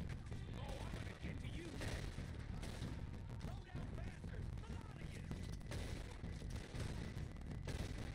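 Rapid gunfire from weapons in Red Dead Redemption 2, a continuous dense barrage of shots and booms, quite quiet overall but unbroken for several seconds.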